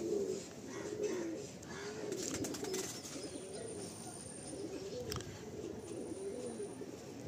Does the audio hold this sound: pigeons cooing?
yes